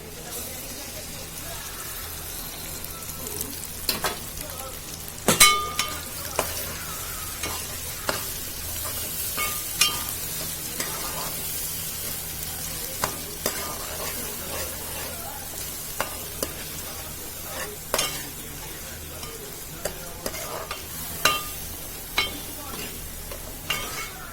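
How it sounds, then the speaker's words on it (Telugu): Ginger garlic paste fries in a pan for chicken curry, a continuous hiss with frequent sharp scrapes and clicks of a spoon stirring against the metal, close and moderately loud. "అల్లం కూడా కాస్త వేగాలి, బ్రౌనిష్ కలర్లోకి వస్తే సరిపోతుంది."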